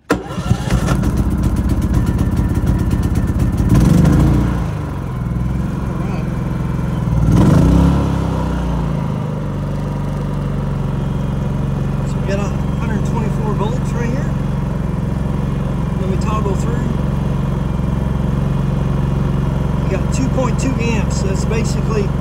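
A Predator 3500 portable generator cranks briefly twice, catches, and settles into a steady, loud mid-pitched idle hum that continues for many seconds.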